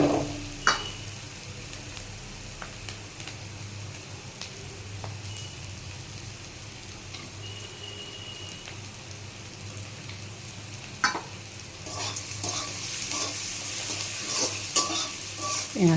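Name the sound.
onions frying and being stirred in a pan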